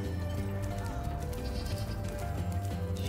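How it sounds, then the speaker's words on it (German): Goat bleating in Spyro Reignited Trilogy, a wavering bleat mixed into dense game music and ambience at moderate volume. "Ich höre eine Ziege."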